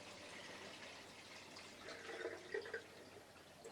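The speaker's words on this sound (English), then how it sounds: "release the water" Water is released from a tap into a bathroom sink basin, a quiet steady rush that grows slightly with a few small splashes and trickles near the end.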